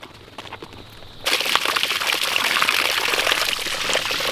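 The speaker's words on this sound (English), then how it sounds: "You want me to turn the water on for you some more?" A garden hose is turned on outdoors, a quiet trickle suddenly giving way to a steady, louder splashing rush of running water that continues to the end.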